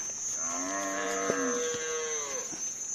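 A young cow lows in one long, drawn-out moo that rises and then falls, heard close and clear over a faint steady hum, with no voices.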